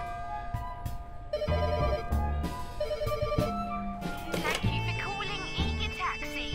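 Payphone in a video game ringing as a taxi is called, a steady electronic ring tone repeating in bursts alongside game music, loud and close.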